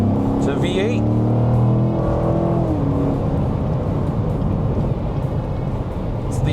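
A Chevrolet Corvette C7 V8 shifts out of its fuel-saving mode and the engine note rises into a deep rumble, revving under continuous nearby talk inside the car.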